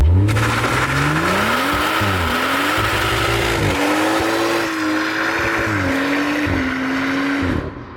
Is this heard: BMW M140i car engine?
yes